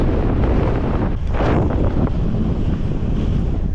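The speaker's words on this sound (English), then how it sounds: "There's a ridiculously strong wind here though." Strong wind buffets the microphone on a rocky coastal headland, with surf rolling below, making a loud, continuous roar with gusty surges throughout.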